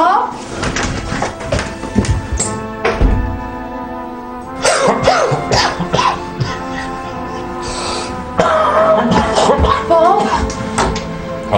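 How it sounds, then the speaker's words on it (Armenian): An elderly man coughs indoors in several harsh, breathy bursts spread through the clip, with a steady tonal background and voices around him. "հազաց է էլի"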